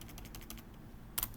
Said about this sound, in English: I can click into this and then I can just edit on my keyboard